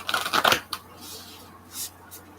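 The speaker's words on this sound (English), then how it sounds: "These are hard to shuffle because they're kind of big." Card shuffling with an oversized oracle deck, a burst of riffled paper slaps in the first half-second, then softer handling rustles near the microphone.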